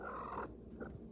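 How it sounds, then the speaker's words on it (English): A pet cat purrs in a steady low rumble, close and fairly loud, with a brief break partway through and no talking over it. "Yeah, that's my cat."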